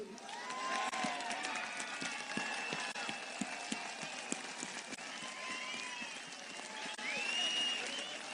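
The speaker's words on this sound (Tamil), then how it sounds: "உங்கள் பங்களிப்பிற்காக நாங்கள் எல்லோரும் எழுந்து நின்று கைதட்டுகிறோம்" Audience at a political party launch event standing and clapping, a dense steady wash of applause with cheers and a voice rising over it throughout.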